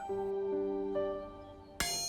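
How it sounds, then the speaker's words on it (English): A hammer taps a railway carriage wheel on the Flying Scotsman, giving a clear bell-like ring that sustains and slowly fades, followed by a sharp metallic strike near the end. "That one rings quite nicely. Nice, isn't it? That's ringing like a bell, really. You can hear it echoing down the rail."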